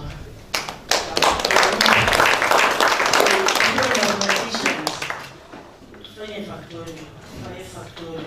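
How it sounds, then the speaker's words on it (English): Seated participants at a university science and technology training day on malaria modeling burst into loud, dense applause for a professor, which tapers off after about five seconds as a voice begins speaking. "Let us give him an applause."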